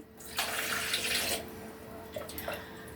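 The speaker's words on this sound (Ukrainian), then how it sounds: "Заливаємо холодною водою." Cold water pours into a jar while Polish-style pickled cucumbers are prepared. It is a steady splashing stream of about a second, with shorter trickles and splashes after it, and no talk.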